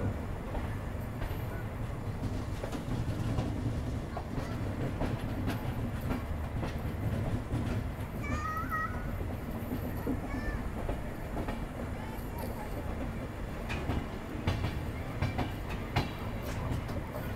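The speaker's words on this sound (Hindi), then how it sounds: "ट्रेन है 12986 जयपुर डबल डेकर एक्सप्रेस" The 12986 Jaipur Double Decker Express running between Delhi and Jaipur, heard from inside the coach as a steady rumble with rhythmic clicking of the wheels over the rails. Faint squeals come partway through, and a voice talks over it at times.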